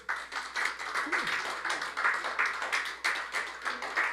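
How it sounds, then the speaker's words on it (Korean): Clapping from attendees at a Korean university lecture, a moderately sized group beating out a quick, fairly rhythmic patter that pulses evenly, heard at moderate level in the hall. "박수 한번 보내주십시오."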